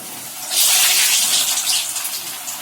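Thekua dough pieces dropped one at a time into hot white oil set off a loud, steady bubbling sizzle that swells and holds for a couple of seconds, with no talking.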